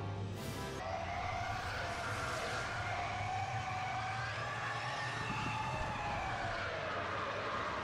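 Wailing warning tone from an enemy fighter's missile lock-on in Star Wars Battlefront, a rising, sweeping siren-like whine held steadily over a dense rumble of engines and battle noise for several seconds.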